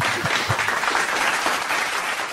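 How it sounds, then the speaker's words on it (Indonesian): An audience at a youth political forum applauds with brisk, even clapping throughout. It is fairly close and full, with a couple of low thumps early on. "Tepuk tangan dulu untuk Abang Dah."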